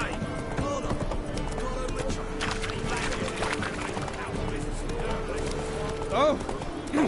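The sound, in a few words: horse galloping in video game The Witcher 3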